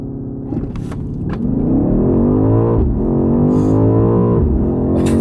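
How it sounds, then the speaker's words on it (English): A 2023 BMW XM performs a launch-control start, its engine note climbing steadily through the gears with loud, hard, abrupt shifts breaking the rising drone, close and continuous throughout. "2023 BMW XM with launch control."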